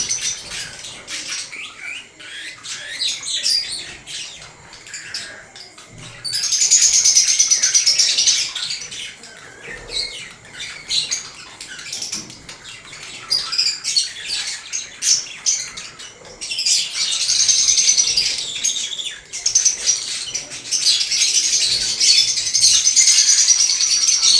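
Lovebird squawking shrilly and flapping while its flight feathers are plucked: close, harsh screeching comes in long bouts over fluttering and rustling, with quieter scuffling between outbursts.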